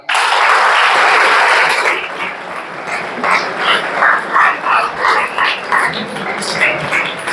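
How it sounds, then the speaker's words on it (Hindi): Clapping from an audience at a polytechnic college mental health program, given for the teachers: a loud burst of dense applause at the start that quickly thins into scattered claps mixed with chatter and voices. "मैम सर लोग के लिए ताली बजाएंगे।"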